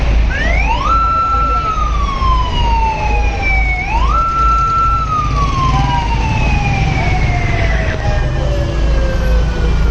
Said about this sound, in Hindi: फायर फाइटर्स की गाड़ियाँ जो यहाँ मौजूद हैं।